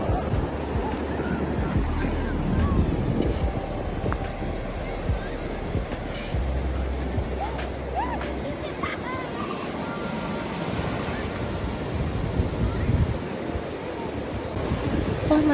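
Surf breaks steadily along a cold UK seaside beach, with constant wash of waves and gusty wind noise across the microphone, while people talk over it throughout.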